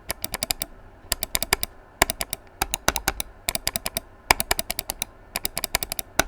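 Logitech MX Master 3 mouse buttons clicking in quick bursts of sharp, crisp clicks, close and fairly loud, repeating in uneven clusters with short pauses and no talking.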